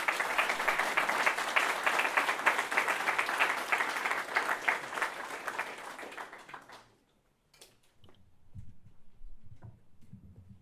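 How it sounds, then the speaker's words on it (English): An audience applauds its presenters at a fall bootcamp demo day, dense sustained clapping that fills the room for about seven seconds before cutting off, followed by faint low rustling and murmur. "I want to just have one more round of applause for all our presenters today"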